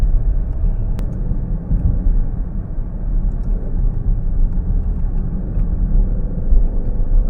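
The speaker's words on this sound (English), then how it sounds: "It's that family SUV that can do it all with that amazing twin-turbo V6 under the hood." Twin-turbo V6 of an Alfa Romeo Stelvio Quadrifoglio SUV while driving, a steady deep rumble heard from inside the cabin, continuous and fairly loud with little change in pitch.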